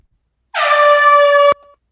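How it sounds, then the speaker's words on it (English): A single loud air horn blast rings out alone for about a second, cutting off sharply and leaving a brief quieter tail tone. "the air horn"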